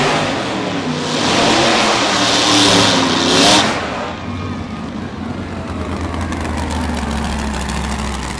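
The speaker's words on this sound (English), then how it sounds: "That's a pretty cool dry hop, isn't it?" Nitro drag racing car revving through a dry hop burnout at Tulsa Raceway Park, a loud, roaring engine with rising and falling revs for about four seconds, then settling into a steady heavy low rumble.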